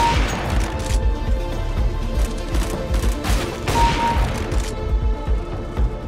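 AWP sniper rifle wall-bang shots in Counter-Strike: Global Offensive amid a busy firefight, with repeated gunshots and booms over constant game noise, several sharp cracks standing out.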